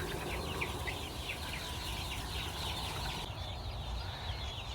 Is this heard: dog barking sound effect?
no